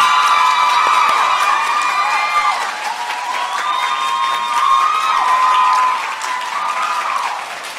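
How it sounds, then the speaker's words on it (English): At the Ms. Wheelchair America 2023 pageant, a large audience claps and cheers for the first runner-up, Miss Michigan, with dense steady applause, shouts and whoops filling the hall and fading slightly toward the end. "we're going to clap and be happy for the first runner-up as well"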